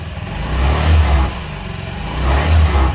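Car engine at idle, revved twice in short blips that swell and fall back, close and loud with no talk over it.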